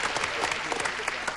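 A game-show studio audience claps in a brief, dense burst of applause, steady and fairly close.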